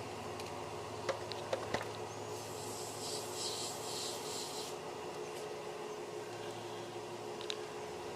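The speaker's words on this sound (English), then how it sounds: "So just a very quick sand." A woodturning piece gets a brief, light sanding as it spins on the lathe, a soft steady rubbing hiss that runs evenly throughout.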